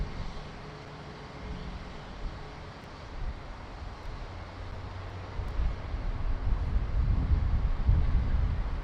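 Steady low wind rumble buffeting outdoors at Sydney Airport, growing stronger and gustier toward the end, with a faint distant engine drone underneath.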